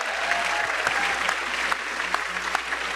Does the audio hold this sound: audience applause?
yes